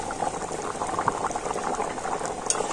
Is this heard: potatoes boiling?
yes